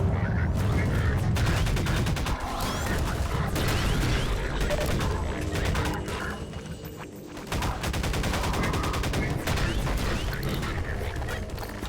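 Sustained enemy gunfire in the video game Half-Life 2, dense rapid bursts of automatic shots and mechanical clatter running almost nonstop, loud and close, with a brief dip midway before the barrage resumes.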